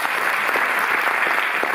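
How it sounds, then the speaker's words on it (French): Brief burst of audience clapping at the opening of a Ken Loach retrospective at the Cinémathèque in Paris, a dense even patter of many hands with no talking. "vous pouvez l'applaudir"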